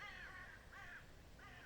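Crows cawing in an audio drama scene, three harsh caws spaced about half a second apart, moderately distant, over a steady background hiss with no talk.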